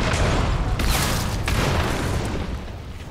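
Heavy, booming gunshots in the video game Hunt: Showdown, a loud sustained rumble with a couple of sharper reports standing out, no talking.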